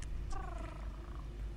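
A cat character purring in the video game Lineage 2, a low, steady rumbling purr close up with a few brief higher chirps and tones from the game layered over it, no talk.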